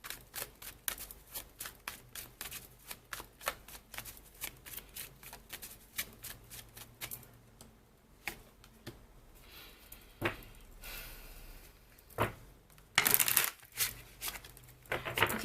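Tarot cards riffled and shuffled by hand, a long run of rapid crisp flicks, then a few louder slaps and rustles as the deck is handled, close and alone.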